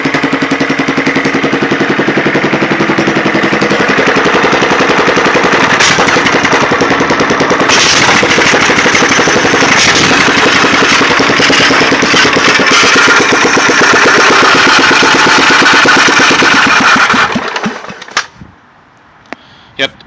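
A 14 HP Kohler engine runs with no muffler, a loud, steady, rapid popping roar that holds for about seventeen seconds before it cuts off and leaves quiet with a few faint clicks.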